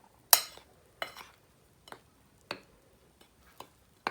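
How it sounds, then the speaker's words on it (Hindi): A spoon mixes raspberry cake batter in a bowl, giving a series of separate, close clinks and taps against the sides, spaced about every half second to a second, with quiet gaps in between. "अब मैं इस बैटर के अंदर इसको मैं एक दफ़ा अच्छे से मिक्स करके"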